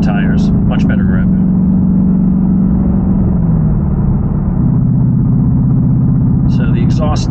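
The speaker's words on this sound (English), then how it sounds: "So the exhaust, not quite as loud because I did an upgrade." A car with an upgraded exhaust, fitted with new tires, drives along as a steady, loud low engine drone, while someone talks over it throughout.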